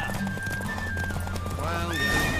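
A horse in The Witcher 3 race gallops with a whinny rising over the hoofbeats, a voice speaking over the loud, dense game audio.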